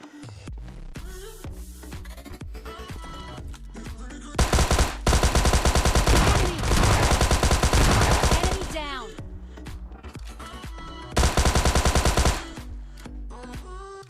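Gunfire in the mobile game PUBG Mobile Lite, with loud rapid automatic bursts and single shots around in-game sounds, and someone talking between the volleys.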